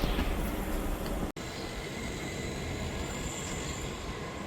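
Train running near Chhaygaon station on the way to Guwahati, a continuous broadband rumble of wheels and carriage noise heard from on board, with a brief sharp dropout partway through, then steady rolling noise.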